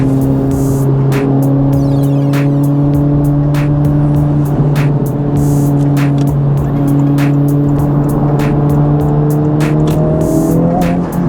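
Honda Civic Type R FL5 with a new downpipe accelerating hard and breaking its tires loose, a loud, steady engine drone rising through the revs from inside the car, with sharp clicks and ticks over it and no talk.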